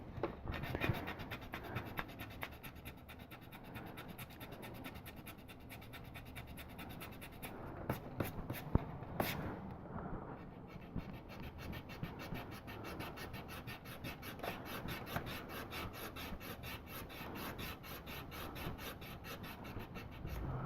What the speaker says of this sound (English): Now the eraser, let's see how well it does with the erasing.